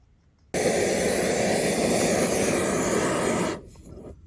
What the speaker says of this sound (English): It is a very loud stove